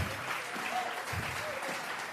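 A church congregation claps briefly, a soft, fairly even patter of hands at moderate distance lasting a couple of seconds.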